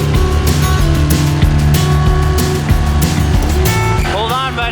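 A small motorized dinghy drones steadily beneath a jungle canopy, its outboard engine loud and close throughout, with a rising whine near the end and voices talking over the motor.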